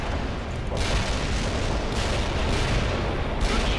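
Heavy artillery barrage pounding the battlefield in the real-time strategy game World in Conflict: a dense, continuous roar of overlapping blasts and rumbling detonations with no pauses between impacts.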